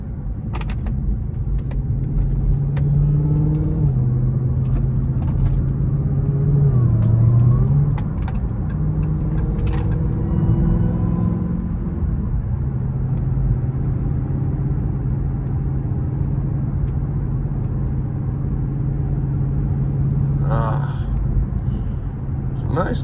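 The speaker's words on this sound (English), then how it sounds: "just listen to that supercharger whine all morning" Dodge Hellcat driven through early morning traffic, its supercharged engine giving a steady close drone with a rising and falling whine, a few brief pops and clicks near the end, with a voice talking over much of it.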